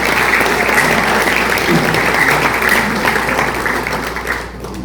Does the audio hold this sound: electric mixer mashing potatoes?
no